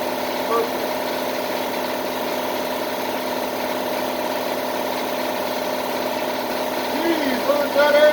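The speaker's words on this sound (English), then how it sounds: "when's that air compressor gonna stop? It's old already." An old air compressor in a workshop runs nonstop, a steady close mechanical drone and hum holding at an even level throughout.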